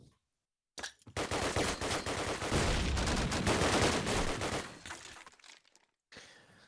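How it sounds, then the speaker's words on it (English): A few seconds of loud, rapid automatic gunfire in a competitive first-person shooter match, a sustained burst that starts abruptly after a brief silence and then tapers away. "but Dichi, nice headshots on the Norby"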